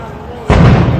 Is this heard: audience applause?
no